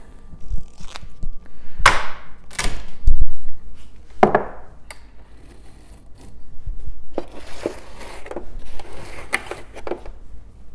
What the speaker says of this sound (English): So I always rip mine off on the counter here, make sure I got a big enough strip to go around the whole jug.